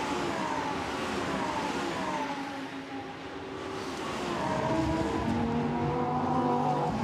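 Lamborghini Super Trofeo race cars at Spa sweep past at a distance, their engine notes rising and falling, steady and moderately loud with no voices.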